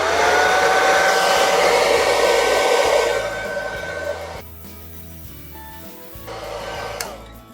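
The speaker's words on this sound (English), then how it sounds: "what we do now is we use a hand dryer, set it in low temperature" A hand dryer on low temperature blows over a freshly washed K&N air filter from a Triumph Street Triple R, a loud continuous rushing whine that shifts in tone as it moves, then drops to a quieter hum before surging again.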